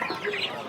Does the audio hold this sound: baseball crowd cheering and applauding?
no